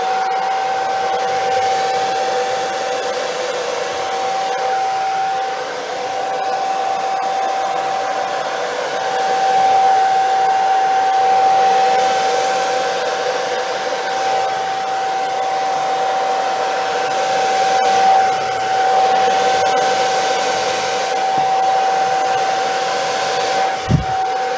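A handheld hair dryer blows steadily and loudly at acrylic pour paint on a canvas, a constant airy whir with a high whine that holds for the whole stretch and ends with a brief knock.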